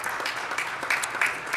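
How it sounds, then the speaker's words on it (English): Brief burst of applause at a board of education meeting, a room of people clapping steadily for a new middle school staff member, with a few sharper claps standing out. "Let's have a big round of applause to Shannon."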